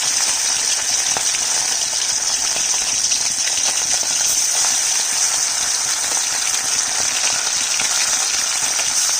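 Fish frying in hot oil in a wok makes a loud, dense, continuous sizzle, a steady hiss close by with no talking over it.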